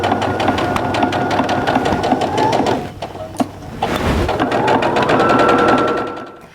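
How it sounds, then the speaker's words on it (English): A sewing machine stitches a quarter-inch seam along the side of a fabric tube for a patchwork pillow, running steadily and loud with a rapid mechanical chatter, pausing briefly midway before resuming and then slowing to a stop. "So now I'm just going to sew a 1/4 inch seam down the entire side of this tube."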